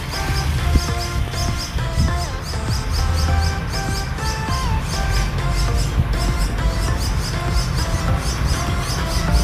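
Two-week-old buffalo myna chicks chirp and squeak continuously while being hand-fed, with busy, repetitive high calls close to the listener.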